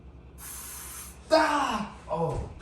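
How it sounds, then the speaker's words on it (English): Bug spray hisses from an aerosol can in a steady burst of nearly a second, close by, then a person cries out and gasps in pain. "The victim just got sprayed with bug spray in the eye."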